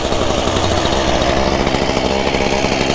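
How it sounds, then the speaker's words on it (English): A chainsaw runs loud and close while clearing brush tangled with barbed wire and thorny bushes, its engine buzzing steadily with rapid chain rattle and no talk over it. "Very dangerous while you're out here working with the chainsaw."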